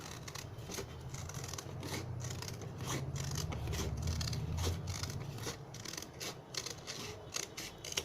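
Scissors cutting paper strips for a festive hanging lantern craft, a quick run of close, crisp snips and rustles at an even pace, with no voices.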